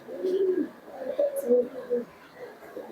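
A top-quality Giribaz pigeon coos close by in soft, low, warbling phrases that rise and fade over a few seconds, with some faint background voice and small handling noises.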